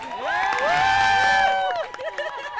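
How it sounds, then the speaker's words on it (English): A crowd at a Pride radio show in a Nairobi bar cheers and whoops loudly, with shouting voices rising over the hubbub for a second or so before settling back into noisy chatter. "Applause."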